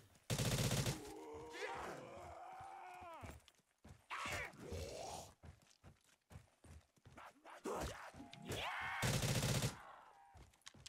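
An RPK light machine gun fires in a Black Ops 3 custom zombies map: two loud, dense bursts, one at the start and one near the end, with someone talking in the gap between them.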